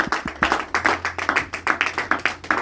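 A church congregation claps rhythmically in acclamation, with many hands striking together in a steady, fairly fast beat that is loud and close.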